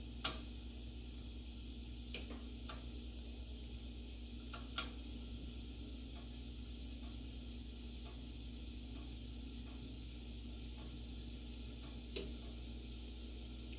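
Homegrown popcorn kernels cook in hot oil under a lid, giving a faint, steady sizzle broken by three or four sharp, isolated pops spread far apart.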